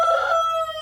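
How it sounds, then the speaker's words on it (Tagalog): A rooster crows once, loud and close, its tone clear and sustained and trailing off toward the end. "Kada nag-sound ng manok ko, no?"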